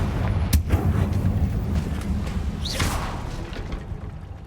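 A Confringo fire spell cast in the Hogwarts Legacy video game bursts with a sharp explosive crack, followed by a whooshing fiery blast and rumbling impacts amid a busy game soundscape.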